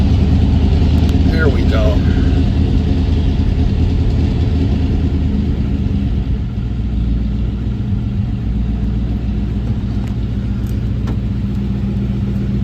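A 1952 Ford F-1 pickup is started with a push button and settles into a steady, loud, low idle rumble that continues evenly, with a voice speaking briefly over it near the start.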